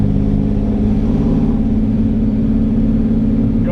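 A drag car launches hard on bias ply slicks, its engine giving a loud, close, continuous low rumble and roar that stays strong the whole time.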